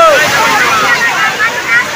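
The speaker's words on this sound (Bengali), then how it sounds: "কত বড় বড় দেখো বন্ধুরা ঢেউ, দেখো কত বড় বড় ঢেউ" Big sea waves surge at Old Digha beach, a loud, rushing wash of surf and wind-buffeted roar with excited voices calling out over it.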